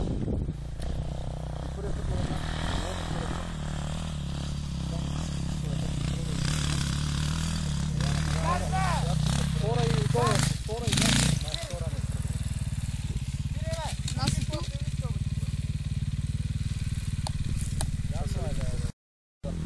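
A motorcycle engine idles and revs close by throughout, its pitch and texture shifting around the middle, while people talk and call out over it outdoors near Murgash.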